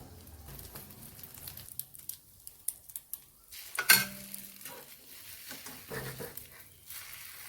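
Egg-dipped bread frying in a little oil, with soft sizzling, scattered clicks of a utensil and a sharp clatter as the slice is flipped over partway through.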